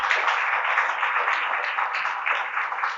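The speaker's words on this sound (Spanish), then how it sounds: "Démosle un fuerte aplauso al Señor," A church congregation claps together at a Spanish-language service, a steady sustained wash of applause lasting a few seconds with no talk.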